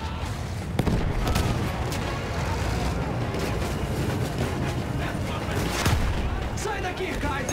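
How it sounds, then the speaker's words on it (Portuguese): Artillery fire in Battlefield 1 booms amid a busy battlefield, several sharp loud blasts scattered over constant rumble and crackling gunfire, with shouting voices mixed in. "artilharia!"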